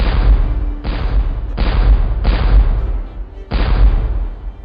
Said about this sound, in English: The sound of cannon fire was unescapable in the battlefield in 1863.